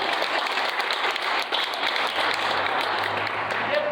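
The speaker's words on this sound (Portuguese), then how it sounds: "Uma salva de palmas." Steady, dense applause from a church congregation after a confirmation, sustained for the full length with a low hum of voices underneath.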